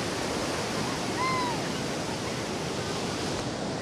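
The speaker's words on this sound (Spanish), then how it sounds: "sus increíbles olas" Steady broadband wash of ocean surf at El Sunzal beach, a continuous rolling roar with no distinct breaks, loud and enveloping throughout.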